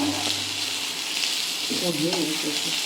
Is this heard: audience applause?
no